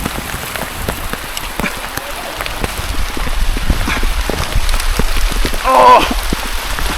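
Heavy rain pours down hard on surfaces outdoors, a dense steady wash of drops with scattered louder splats, while voices shout and exclaim over the downpour near a stalled motorbike.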